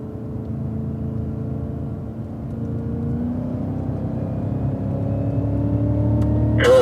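A Cadillac CTS-V on a race track pulls hard under throttle, its engine holding a steady, rising drone that slowly builds in pitch and loudness. A short burst of higher noise comes at the end, with no voices.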